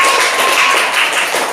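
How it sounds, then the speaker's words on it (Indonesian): Schoolchildren in a classroom clap together for the winning group, a dense, loud, steady patter of many small hands that runs throughout with no pauses. "Tepuk tangan untuk kelompok kurai kemenangan."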